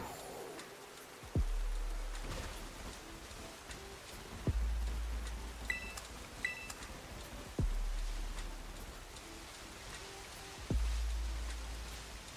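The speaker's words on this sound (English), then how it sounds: "I wish it would stop raining." Rain falls in the Pokémon Scarlet and Violet video game as a steady soft patter that runs under the whole passage. A few low thuds and faint chirps come in at intervals.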